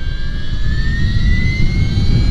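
An Energica Eva Ribelle RS electric motorcycle accelerates hard, its motor whine climbing steadily in pitch over loud, rushing wind and road roar.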